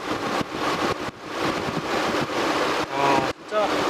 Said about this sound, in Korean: 자, 엔진 한번 들려드릴게요.